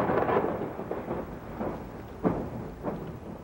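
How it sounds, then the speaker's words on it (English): Thunderstorm on the open prairie along the Oregon Trail, with low rolling thunder rumbling in several swells and a steady wash of rain beneath, moderately loud and without any voices. "Great thunderstorms also took their toll."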